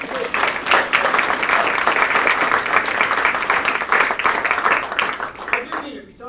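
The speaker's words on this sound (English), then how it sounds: "how about a round of applause for these guys?" Warm, sustained applause fills the room at a senior center's 50th anniversary celebration, a dense crowd clapping steadily for several seconds before fading, with some voices mixed in.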